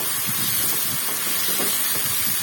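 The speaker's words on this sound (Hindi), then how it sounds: "इसके अंदर मैं नमक डाल दूंगी, कुटी लाल मिर्च डाल दूंगी और सब्ज मिर्च डाल दूंगी और इसको भून लूंगी" Spice masala with salt, crushed red chilli and green chilli fries in a pan, giving off a steady, loud sizzling hiss that carries on without a break.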